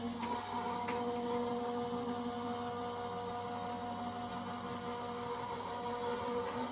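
A Gemini electric die cutting machine feeds a plate stack through its rollers with a steady, even motor hum and whir, close by and continuous, without talk.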